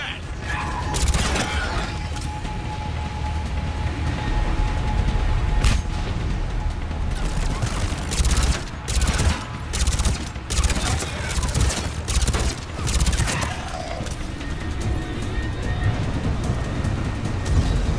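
Sustained automatic gunfire and rapid bursts of cover fire in the video game Mass Effect 3, loud and close, with mechanical clatter and sharp cracks throughout, mixed with shouted character voices.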